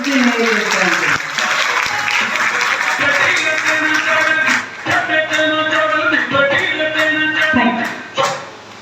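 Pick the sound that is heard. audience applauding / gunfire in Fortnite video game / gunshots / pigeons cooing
audience applauding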